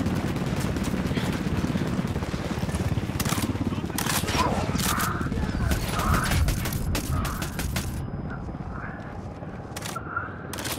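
Gunfire rings out during a firefight at a desert airport in the video game Ghost Recon Wildlands. Rapid sharp shots and bursts crackle over a dense, busy background of game sound and voices, with clusters of cracks through the middle and end.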